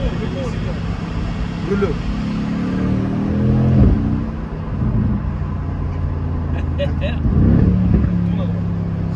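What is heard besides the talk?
Mercedes-AMG GLC 63 S engine revving and accelerating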